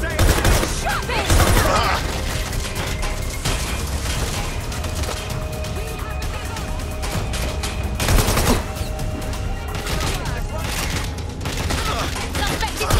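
Rapid bursts of gunfire in Watch Dogs: Legion, with repeated volleys and heavier blasts around the second and eighth seconds over a continuous game background and soundtrack.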